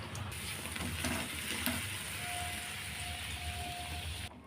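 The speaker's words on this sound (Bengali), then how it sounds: "ডাল সোমবারে শুকনো লঙ্কা দারচিনি গরম মশলা তেজপাতা সব দিয়ে দিলাম" Dry chillies, cinnamon, bay leaves and garam masala sizzling in hot oil as a tempering for chana dal, a steady broadband crackle and hiss that holds evenly, close and loud, then cuts off near the end.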